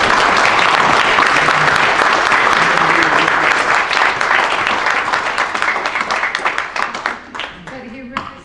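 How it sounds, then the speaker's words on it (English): An audience at a New York symposium breaks into loud, dense applause that holds steady for several seconds, then thins out to scattered claps and fades near the end. "he deserves a round of applause"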